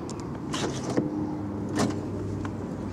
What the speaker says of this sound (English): See the door closing itself there?